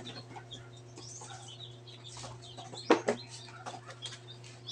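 Crossbred chickens cluck in a couple of short bursts midway through, over a steady low hum and faint bird chirps in the background.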